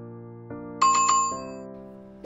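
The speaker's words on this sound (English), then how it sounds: "Ring the bell." A bright bell chimes a few quick times over a sustained ringing tone, clear and close, with another strike right at the end.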